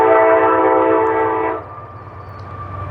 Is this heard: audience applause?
no